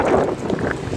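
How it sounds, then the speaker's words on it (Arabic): Wind blows outdoors by a villa, a brief rough gust buffeting the microphone with a low, uneven rumble and a faint airy hiss. "كاين الريح،"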